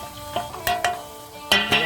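Ground spices, red chilli, coriander, cumin and garam masala, frying in a pan for a pig's head picnic dish, heard as a soft sizzle broken by a few sharp stirring scrapes.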